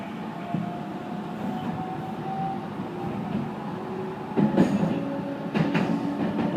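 Steady rumble of the Inuyama mountain train in motion, with a faint tonal whine and louder rattling clunks of the wheels near the end, heard from inside a carriage with no talk.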